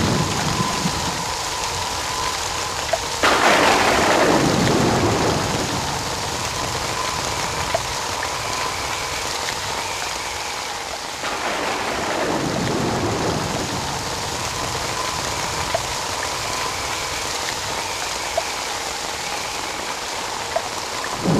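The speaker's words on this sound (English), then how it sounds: "Forest streams flow anew as a monsoon brings with it life-giving rain." Heavy monsoon rain pours steadily over a forest in the Western Ghats of Periyar Tiger Reserve, with running water and two deep rumbles of thunder rolling through, loud and continuous.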